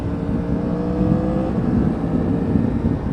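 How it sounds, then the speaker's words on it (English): A 2019 Yamaha MT-10 cross-plane motorcycle engine drones and revs steadily throughout, a deep rumbling growl with rising and falling pitch, close by and uninterrupted. "just for that cross-plane engine sound"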